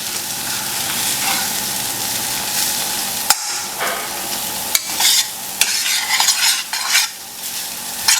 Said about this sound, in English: mash it a little bit with my spatula. That will help crush the onions out a little bit also.